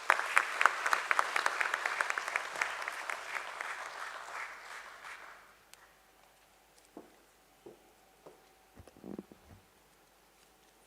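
An audience at a company stock-exchange listing ceremony claps in dense, moderately distant applause that fades over about five seconds, leaving scattered isolated claps and faint room noise.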